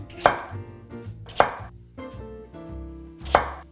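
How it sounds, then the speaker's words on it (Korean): Three distinct knife chops through an onion on a cutting board, spaced about a second apart, close and crisp in an otherwise quiet kitchen. "양파가 있잖아요. 그냥 이렇게 1cm 정도 넓이로 이렇게 썰으시면 돼요."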